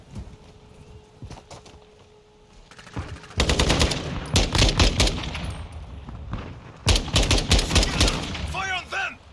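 Bursts of automatic rifle fire and single shots in a Call of Duty Modern Warfare II (2022) multiplayer match, starting quiet then turning into loud, rapid volleys, with game voices calling out between shots.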